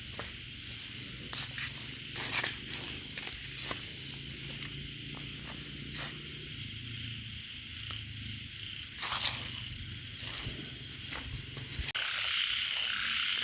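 Frogs croaking in a wet field after rain, a dense chorus of repeated calls close by with insects and footsteps in the background.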